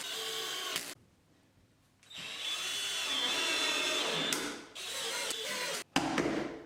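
A power drill drives screws into a plywood cabinet panel in several loud, close bursts of whirring, separated by short pauses and a brief quiet gap.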